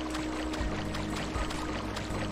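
A video-game character swims through water, making a steady rushing, sloshing wash with periodic stroke-like surges, loud and continuous, with no talk.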